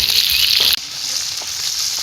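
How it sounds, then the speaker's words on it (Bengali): Fresh river hilsa fish frying in hot oil in a pan, a loud, close, hissing sizzle that cuts off abruptly after a moment and then carries on as a softer, steady fizz. "মাছটা ভাজার পাইনে তেল তেল গরম হয়ে গেছে, আর মাছটা দিয়ে দিলাম"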